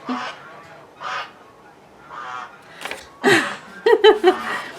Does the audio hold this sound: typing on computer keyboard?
no